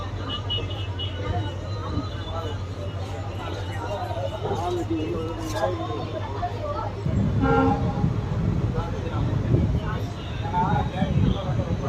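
A train pulls into Vadapalanji station on the Madurai–Bodinayakkanur line: a continuous low rumble and hum of the moving train, growing louder and rougher partway through, with voices and station bustle over it.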